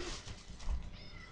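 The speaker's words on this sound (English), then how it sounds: "Here you go, happy kitties." Pet cats at feeding time give a short, faint meow amid soft room noise and light rustling, brief and close by.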